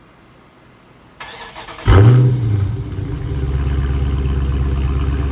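A 2017 Dodge Charger RT Scat Pack 392 on its stock exhaust fires up with a sharp crank and loud bark, then drops into a deep, steady idle rumble close by.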